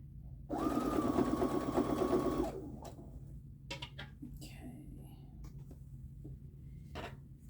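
A sewing machine runs a starter scrap through before chain-piecing churn dash quilt blocks, a close, steady mechanical whir lasting about two seconds, followed by quieter handling clicks and rustles.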